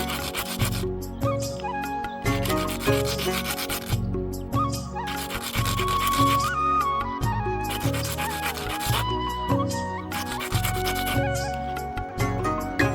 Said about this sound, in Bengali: সব বীজ একইভাবে হালকা করে ঘষে নিচ্ছি